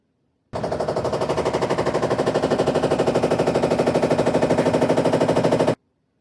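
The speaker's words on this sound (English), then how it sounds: "my Samsung washer is making a lot of noise during the spin cycle" A loud, fast, steady rhythmic thumping and rattling from a Samsung washing machine on its spin cycle, starting abruptly and cutting off after about five seconds.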